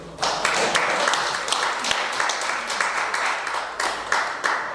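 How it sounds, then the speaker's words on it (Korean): Applause from a lecture audience at a cultural academy talk, a steady patter of hand claps with a few sharper individual claps standing out across the whole stretch. "박수 한번 나와야 됩니다."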